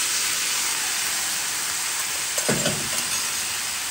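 Turkey sausage dropped into a pan of frying peppers and onions, a steady close sizzle jumping briefly louder as the meat hits the hot pan, then settling back into even frying.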